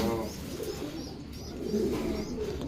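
Soft low cooing of a pigeon or dove repeats over a hushed background, with a few faint chirps.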